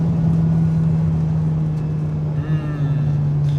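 Inside a Honda Accord Type S with a K24 engine pulling hard in third gear, a loud steady engine drone holds through most of the clip, with a brief rising whine near the end, all heard from the cabin.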